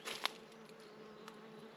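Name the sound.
big bee buzzing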